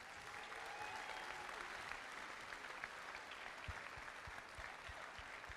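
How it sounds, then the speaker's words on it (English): At a British under-19 all-star basketball showcase, the crowd gives a round of applause, with dense, steady clapping that holds at an even level throughout and includes a few louder claps near the end. "Can we give a round of applause, please?"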